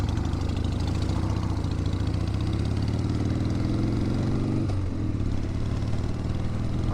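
A motorcycle engine idles steadily at a gas stop, a loud, continuous low rumble with a slight dip in pitch near the end and no talking.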